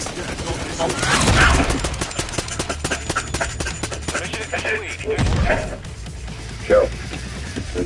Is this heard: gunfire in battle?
yes